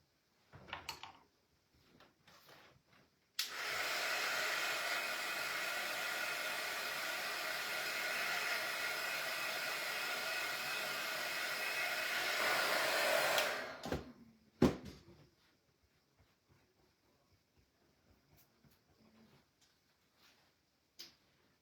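A hair dryer blows on a painted Christmas craft project for about ten seconds, a steady loud whoosh that starts and stops abruptly, with small tapping and handling sounds before and after.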